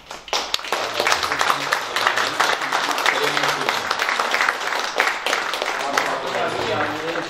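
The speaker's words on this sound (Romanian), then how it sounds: "vă rog să-i aplaudăm pe acești minunați oameni." Audience applause fills a vernissage for a photography-style exhibition of village people, a dense, steady wash of many hands clapping for the whole stretch, with voices murmuring underneath.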